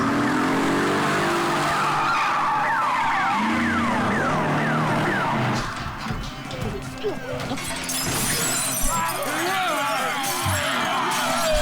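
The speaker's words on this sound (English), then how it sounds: "You gotta rev that engine." Car engines roar and rev while tires skid and squeal, loud and continuous, with people talking over the racing noise.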